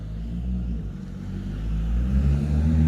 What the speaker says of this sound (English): Oh, that's a nice Jaguar, or is it Porsche driver?